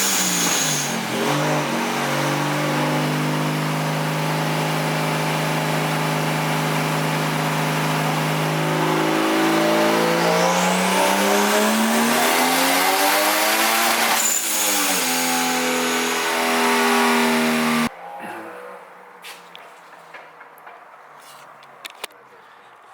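A turbocharged Nissan 350Z on a dyno revs loud and steady, engine pitch climbing through a long pull for about fifteen seconds, briefly dipping and rising again before cutting off, then quiet shop noise with faint sounds.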